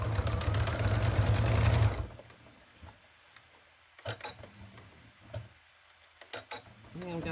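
A sewing machine runs in a fast, loud stitching burst for about two seconds while stitching a woven basket, then stops, leaving quiet handling noises and brief soft clicks.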